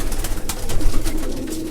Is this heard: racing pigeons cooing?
yes